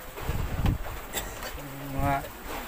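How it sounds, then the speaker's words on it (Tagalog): A boat's engine misfires and sputters at sea, a buzzing, uneven drone with brief dropouts and surges, heard over wind and open-air noise. "Palya-palya yung makina ni."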